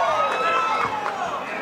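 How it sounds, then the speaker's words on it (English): A loud, steady crowd cheering in a fight arena for a female boxer, Sulem Urbina, with supporters from Phoenix and Sonora, filling the whole moment under an announcer's voice. "You can hear the section cheering for her loud."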